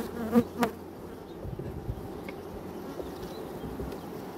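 Honeybees buzz steadily around a brood frame from a hive in spring, a dense continuous hum with two brief louder knocks near the start as the frame is handled.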